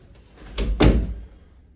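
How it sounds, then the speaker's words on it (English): An interior door in a house being checked during a walkthrough, opened and shut: two close thumping swings about a quarter second apart, the second with a firmer knock, in a quiet room with no talking. "Just need to make sure this doors all work correctly, close well, don't rub, don't have big gaps."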